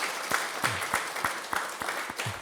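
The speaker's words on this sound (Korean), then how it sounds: "박수로 환영해 주십시다." A church congregation at a Sunday morning service claps to welcome a member, a steady patter of many hands at moderate distance, with sharper individual claps standing out at a regular pulse.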